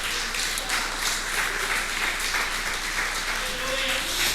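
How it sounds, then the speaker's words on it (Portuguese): Congregation applauding during a church service, a steady wash of clapping throughout with a sung or spoken voice rising faintly over it. "Aplauda o Senhor em nome de Jesus."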